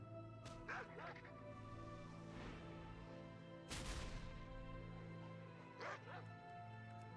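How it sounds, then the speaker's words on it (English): A hunter's pet dog howls and whimpers in World of Warcraft during a Wrath of the Lich King dungeon fight. Several drawn-out canine cries rise over steady game music and effects, with bursts near the start, middle and end. "So we'll howl."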